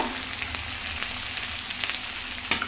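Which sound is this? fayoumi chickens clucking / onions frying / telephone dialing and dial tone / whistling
onions frying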